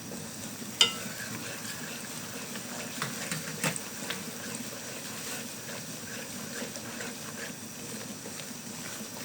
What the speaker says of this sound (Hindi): अब डालेंगे इसमें सूजी 1 कप, इसको मीडियम फ्लेम पे इसको हिलाते रहेंगे।